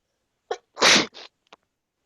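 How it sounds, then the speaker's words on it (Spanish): One loud, close sneeze bursts over an open microphone during an online chemistry class, with a short intake before it and a smaller follow-up burst, then silence. "Me gusta que hayas abierto el micrófono solamente para estornudar."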